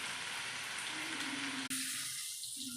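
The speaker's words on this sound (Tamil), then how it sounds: "வெங்காயம் தக்காளி வதங்கிடுச்சு." Chopped onions and tomatoes sautéing in a pan for a dried fish curry, a steady broadband sizzle that briefly cuts out and then continues a bit quieter.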